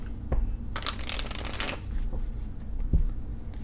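A deck of tarot cards is shuffled close by, with a quick riffling flutter and soft taps, alone and without talk.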